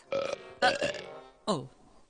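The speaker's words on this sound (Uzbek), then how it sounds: "Kekirdigan maxluq kekirishini biladi." A cartoon creature lets out three voiced, croaky burps, each short and separated by brief pauses. The burps are close and loud with no other sound around them.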